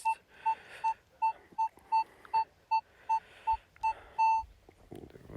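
A metal detector over a buried coin in a field gives a regular run of about a dozen short, clear electronic beeps, evenly spaced and fairly loud, ending in one longer tone, with no talking.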